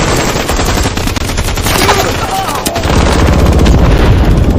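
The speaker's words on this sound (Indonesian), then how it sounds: "Mereka ditembaki dengan senjata mesin" Machine gun fire rattles through an action film battle as enemies hunt fleeing fighters, with loud, dense, continuous bursts that swell into a heavier booming roar in the second half.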